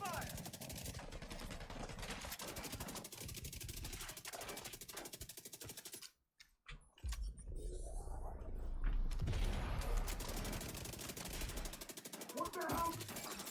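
Rapid automatic gunfire in The Division 2 during a close-range firefight, dense bursts of shots filling most of the stretch with a brief gap of near silence partway through.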